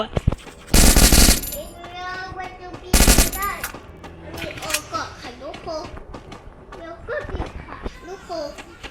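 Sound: gunfire in a video game

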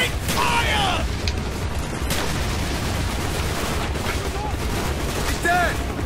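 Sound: gunfire in the video game Call of Duty: Black Ops

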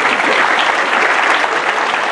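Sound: audience applause at a comedy show

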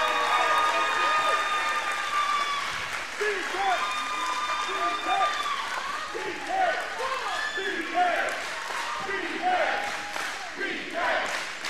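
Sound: crowd applauding and cheering at a wrestling match

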